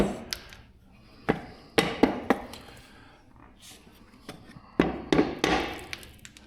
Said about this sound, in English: we can like put it on here and use a hammer to whack it